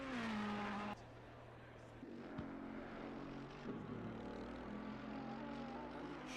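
A Ferrari GT race car in a racing game takes a corner at Hungaroring, its engine droning loud and steady with a pitch drop partway through, overlapping the engines of other cars, with commentary voices underneath.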